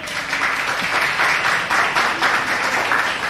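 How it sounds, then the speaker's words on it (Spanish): Steady audience applause for the first contestant in a singing competition, a dense wash of clapping that stays even and fairly loud throughout, with no voices over it. "Un aplauso,"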